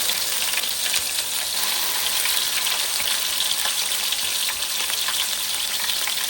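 Garlic and onion paste frying in a pan, a loud, steady sizzle with a constant hiss and faint crackle throughout, with no talking.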